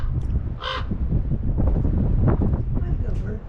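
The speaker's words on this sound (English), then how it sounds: "Make some more noise, bird." A crow in Dead Horse Point State Park, Utah, gives a few harsh caws over heavy wind buffeting the microphone, with a person talking nearby.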